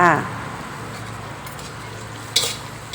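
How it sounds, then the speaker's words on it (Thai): Fried fish being stir-fried with basil leaves in a pan, a soft scraping stir with a low sizzle running throughout, a short voice at the start and a brighter clatter near the end. "เราก็ผัดแบบนี้ให้เข้ากัน"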